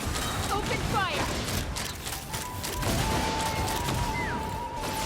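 Gunfire in a console game, a steady clattering fusillade with mechanical rattles under voiced game dialogue and effects.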